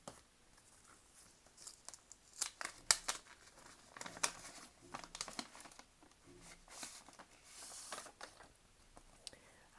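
An envelope of paper stickers is opened and handled close by, with irregular rustles, crinkles and light tapping clicks spread across several seconds and brief quiet gaps between them.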